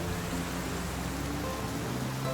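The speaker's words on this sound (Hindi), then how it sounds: "बारिश बहुत तेज है" Heavy rain pouring steadily, a dense, even hiss of rainfall close by that fills the whole moment with no pauses and no talk.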